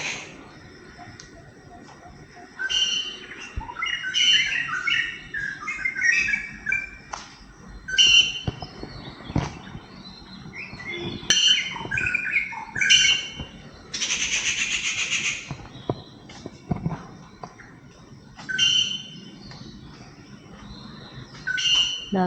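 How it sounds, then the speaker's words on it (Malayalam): Assorted birds chirp and call from hidden spots among plants around a cottage garden, bursts of twittering and a louder trilling call recurring through a quiet outdoor scene. "ഇതിൻ്റെ ഉള്ളിൽ ഏതൊക്കെയോ പക്ഷികളുണ്ട് കേട്ടോ."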